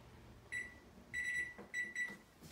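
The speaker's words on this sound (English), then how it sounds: "oh, there's my timer." An oven timer in a home kitchen goes off with four sharp electronic beeps, the first one alone and the last three closer together, clear and close over quiet room tone.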